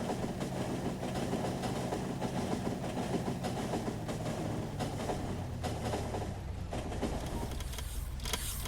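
Trains run steadily on a rail network in the factory-building game Factorio, giving a continuous dense rumble with faint rolling clatter and no voices.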